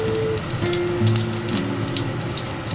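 Whole cumin seeds sizzling in hot frying oil, a steady crackling hiss with scattered sharp pops, close and continuous through the short stretch.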